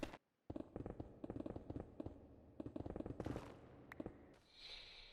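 Wither projectiles fire at a player in a modded Minecraft world. Rapid, loud popping blasts come in dense clusters close by, then a brief hiss trails off at the end.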